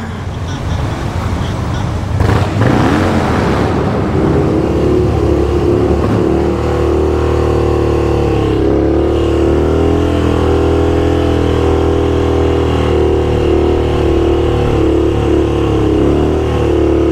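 A motorcycle with a stock exhaust revs in a tunnel, a loud close roar that climbs sharply early on and then settles into a steady, echoing engine drone.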